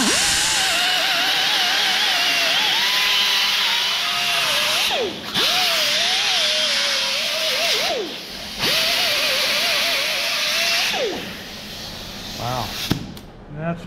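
A power tool with a 50-grit abrasive grinds down the rear quarter panel of a 1967 Shelby GT500 Mustang, a loud steady whine broken by brief pauses, ending with a couple of clanks.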